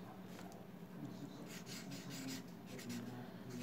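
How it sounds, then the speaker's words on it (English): A pen scratches across a paper envelope in short, quiet strokes, close and faint over a low steady background hum. "let's see if I can find an envelope here just to write it on here"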